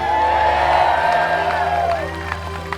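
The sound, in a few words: stadium crowd applauding and cheering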